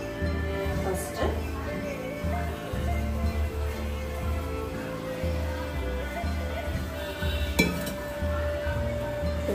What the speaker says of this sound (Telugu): దాన్ని ఆయిల్లో మనం కొంచెము ఫ్రై చేసుకోవాలన్నమాట